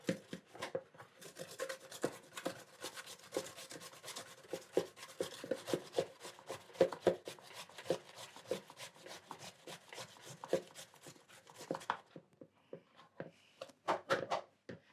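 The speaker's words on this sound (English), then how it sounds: "we'll start with your potato and we'll grate the potato" Raw potato rubbed against a kitchen grater in quick, repeated rasping strokes, a steady scraping rhythm close by that pauses briefly near the end before a few final strokes.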